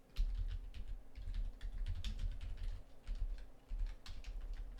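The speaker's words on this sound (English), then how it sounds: "I apologize if you can hear the typing." Steady typing on a computer keyboard, rapid clicky keystrokes in bursts, fairly close and quiet, with no voices.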